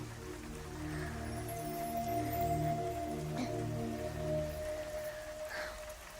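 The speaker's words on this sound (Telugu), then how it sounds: "వర్షం పడుతోంది, ట్రైన్ లేటో ఏమో" Steady rain patters on a surface at a railway station, with a low constant hum running underneath.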